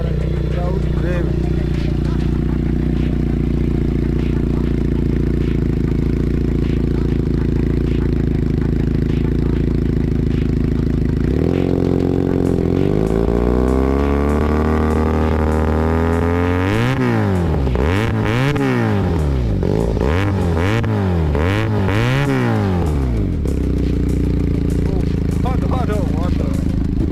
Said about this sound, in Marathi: लिओ वेन्स हे एक्झॉस्ट ह्या एक्झॉस्टचा मी तुम्हाला एक हे दाखवणार आहे आवाज कसा येतो